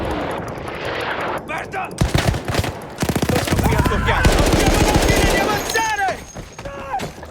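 Dense WWI gunfire from the Battlefield 1 video game, with rapid machine-gun bursts and loud shots over a battle din, while soldiers shout in Italian during a charge.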